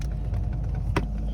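A 2007 Ford Mustang GT engine rumbles low and steady at close range while the car is being parked, a continuous deep drone with a brief sharper noise near the end.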